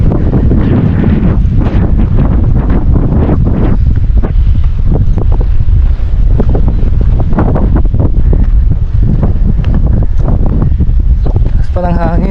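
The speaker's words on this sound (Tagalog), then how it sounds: "Taas pa ng hangin." Strong wind sweeps the top of a hill at a strawberry farm and buffets the microphone in a loud, continuous roar. Gusts rise and fall the whole time.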